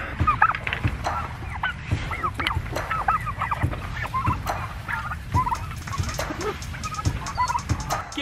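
A flock of white turkeys gobbles and chatters continuously up close, overlapping calls with honking fowl noises and chickens mixed in.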